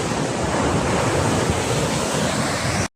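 Sea water surging through a fishing-village courtyard toward houses, a loud continuous rushing wash of water with wind buffeting the microphone, cutting off abruptly at the end.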